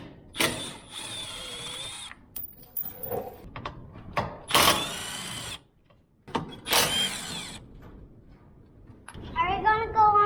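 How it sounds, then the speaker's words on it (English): A power tool driving out small T40 Torx bolts while installing B&M rock sliders on a General XP4 side-by-side, heard in several short bursts separated by pauses, with ratcheting mechanical noise and a voice talking in between. "take these little Torx bolts out, and they're also the same T40 we used on the skid plate"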